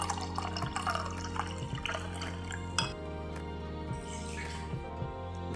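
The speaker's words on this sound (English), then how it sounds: "so let's first pour it in a glass so that you may see what it looks like." Japanese sake poured into a glass makes a faint, steady trickle with a few soft drips, heard alone over a constant low background hum.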